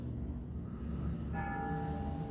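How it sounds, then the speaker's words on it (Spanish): A neighbouring church's bells begin ringing one Thursday morning, a clear sustained tone with ringing overtones that enters about midway over a low background hum and carries on to the end. "Iniciamos con las campanadas de nuestros vecinos."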